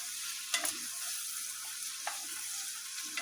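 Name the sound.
onions stirred in melting butter in a pan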